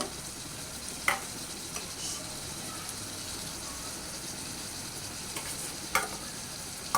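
Sea ribbonfish cooking in a pan with sour flower paste and green chillies, giving a continuous soft sizzle with occasional sharp scrapes of a spoon stirring against the pan.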